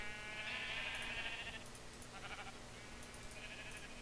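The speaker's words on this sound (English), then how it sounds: "Hey look, sheep of many colors." Blocky Minecraft sheep of many colors bleat in the game world, several short wavering cries spread across a few seconds over a steady low background hum.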